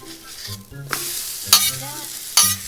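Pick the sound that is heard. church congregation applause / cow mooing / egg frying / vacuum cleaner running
egg frying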